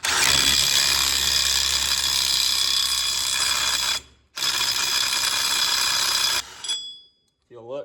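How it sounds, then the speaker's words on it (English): Impact wrench with an impact-rated socket seating a wheel stud on a 1967 Camaro, a loud continuous whirring hammer run for about four seconds, a brief pause, then a second burst before winding down; a voice speaks faintly near the end. "Grab our impact with a impact rated socket."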